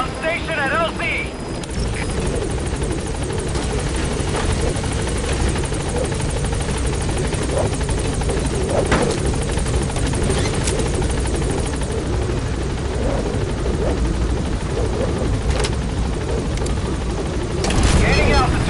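A video game helicopter rotor chops loudly and steadily as it arrives at a landing zone, with radio voice chatter and occasional distant bangs over it.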